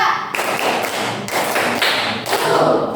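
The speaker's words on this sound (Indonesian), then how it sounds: "Tepuk tangan 2." Classroom students clap together as instructed during a social studies lesson: several crisp, loud group claps land in a rhythmic pattern over a few seconds, with no voices over them.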